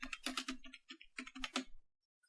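Fast keystrokes on a computer keyboard while text is entered with the type tool in Photoshop, a close, brisk run of clicks that stops suddenly near the end.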